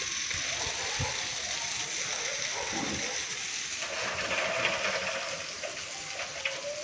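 Rainwater running and splashing outdoors in Kerala, a steady close rush of flowing water with a few brief splashes and drips on top.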